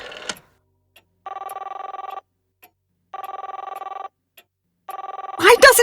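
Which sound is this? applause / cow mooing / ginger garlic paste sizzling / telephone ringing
telephone ringing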